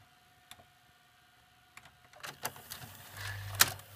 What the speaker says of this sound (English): And let's go ahead and do a fast forward.